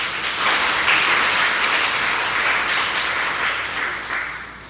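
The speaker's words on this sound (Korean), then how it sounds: "우리 박수 한번 쳐드려요" A church congregation applauds at a revival service, a dense, sustained wash of clapping from many hands that holds steady for several seconds before tapering slightly at the end.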